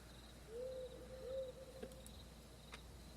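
An owl hoots twice, faint and distant: two soft, low, sustained tones close together against a quiet night background with a steady insect hum and a couple of small clicks.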